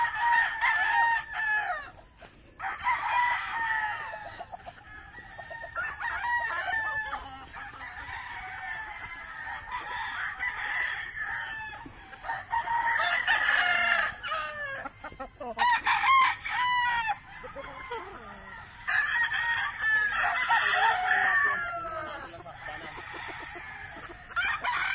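Young gamecock stags crowing repeatedly near a bamboo hut, overlapping bursts of cock-a-doodle-doo with scattered clucks, moderately close against a quiet rural backdrop.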